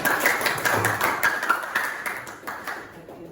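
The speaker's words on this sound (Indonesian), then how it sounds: "Tepuk tangan untuk jawaban kita." Brief round of classroom applause after a student's answer, a burst of scattered hand claps from a small group that thins out toward the end.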